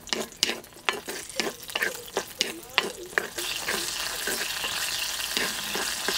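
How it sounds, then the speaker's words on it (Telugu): Green chillies fry in a spoonful of hot oil with a close, bright sizzle. Sharp stirring clicks break it up early on, then the frying settles into a continuous hiss. "1 చెంచా నూనె వేసుకుని 1 నిమిషం పాటు పచ్చిమిరపకాయలు వేయించుకుందాం"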